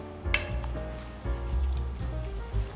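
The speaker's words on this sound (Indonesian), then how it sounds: "Kemudian kita mulai menumis bawang putihnya sampai kekuningan aja ya" Garlic sautéing in a pan for lodeh, a close crackling sizzle broken by a few spatula stirs and a metallic scrape, moderately loud with no talking.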